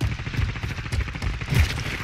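Rapid automatic gunfire in the Warzone video game, a sustained rattle of repeated shots with low booms, loud and continuous throughout without talk.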